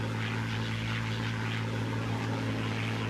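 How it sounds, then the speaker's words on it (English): Rolls-Royce piston engines of Battle of Britain Memorial Flight warplanes drone steadily overhead at an air show, a continuous loud propeller growl with no speech. "keep the iconic sound of the Rolls-Royce engines"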